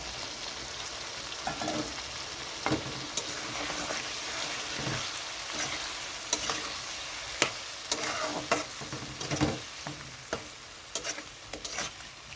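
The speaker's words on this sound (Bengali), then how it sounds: "এখানে সব মশলা দেওয়া হয়ে গেছে, তো ভালোভাবে কষিয়ে নিতে হবে।" Spices, grated tomato and green chilli sizzle and fry in a pan, with a steady crackling hiss broken by scattered scraping stir strokes, close and continuous, with no talk.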